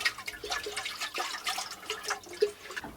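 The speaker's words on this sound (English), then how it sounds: "I'm just going to rinse this quickly." Water runs and splashes while a camp percolator is rinsed at a Colorado campsite, a steady close trickle with small drips and sloshes, no voices.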